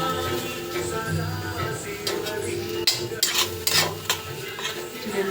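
Okra fries in a pan while a utensil stirs and scrapes through it, giving a steady close sizzle broken by clinking metal scrapes, with no talking.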